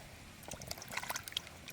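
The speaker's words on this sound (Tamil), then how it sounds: "இதை கழுவி நல்ல வடிவாக கழுவி எடுத்துட்டு தான் நான் அவிய விட போகிறேன்" Potatoes are rinsed in a bowl of water by hand, brief close splashing and trickling with small clinks, soft and short.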